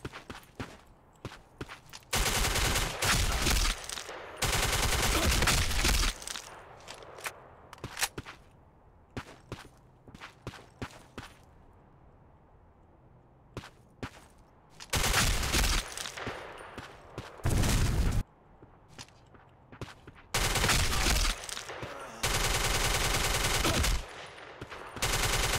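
Gunfire in the online shooter Black Squad comes in loud bursts of rapid automatic fire, broken by quieter stretches with faint steps and single shots.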